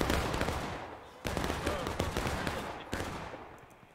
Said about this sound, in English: They're sitting on this corner here taking shots.